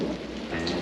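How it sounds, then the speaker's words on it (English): Heavy hail and rain pound down during an Australian thunderstorm while caravanning, a dense, steady roar close by with a low rumble of thunder underneath and no voices. "I'm lucky enough to get caught out in a hailstorm"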